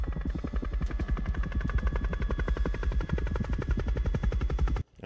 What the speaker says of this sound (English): It's like the helicopter noise is being muffled